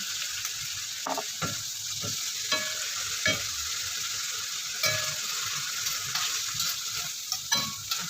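Shrimp frying in a pan with liquid seasoning added, a steady close sizzle throughout with scattered stirring clatters and utensil taps, no talking.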